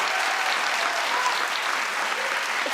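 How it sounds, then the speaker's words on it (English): Sustained studio audience applause at a daytime talk show, a dense, steady wash of many hands clapping at full volume throughout, with no voices standing out. "clap if you'd love to see white chocolate here"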